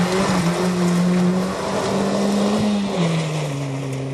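A Nissan Micra rally car on a Cambrian Rally stage, its engine note droning loud and close with pitch shifts as it changes gear and speed, and road and wind noise underneath.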